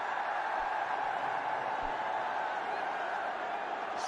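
A cricket stadium crowd at an India versus Afghanistan World Cup 2023 match makes a continuous, distant roar of massed voices, with a chant blended into the steady din.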